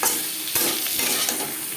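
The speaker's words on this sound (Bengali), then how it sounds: "পরিমাণ মতো লবণ ও হলুদ দিয়ে আলু ভেজে নেব" Boiled potatoes frying with salt and turmeric in a pan, giving a loud, close, steady sizzle with quick stirring scrapes layered over it, no voices.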